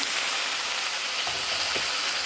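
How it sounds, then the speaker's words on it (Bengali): Spices frying with potatoes and a little water in a pan for a village-style cauliflower and koi fish curry, a continuous dense hiss of sizzling with a couple of faint stirring knocks. "মশলাটা ভালো করে কষে নেব।"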